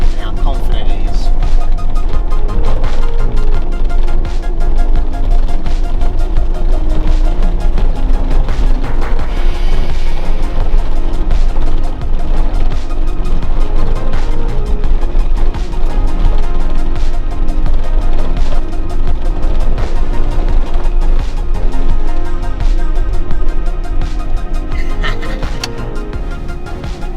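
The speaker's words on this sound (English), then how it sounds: "Let's see Datsuns on coilovers drive over cobblestone street like that." A Datsun 280ZX on coilovers rolls over a cobblestone street, giving a loud, continuous rumble of tires and suspension with steady low-end drumming and rattles from start to finish.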